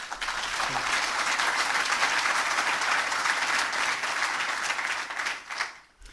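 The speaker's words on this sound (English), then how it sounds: "I was going to ask you to applaud afterwards, but every time you can do it because they do deserve it." Audience at an award ceremony for the GSIA 2007 honours breaks into sustained applause, many hands clapping in a thick, even wash that holds steady for several seconds before fading quickly at the end.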